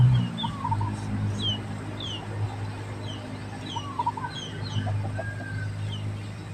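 Chickens cluck in short scattered calls, some near and some farther off, over a steady low background hum on a village farm.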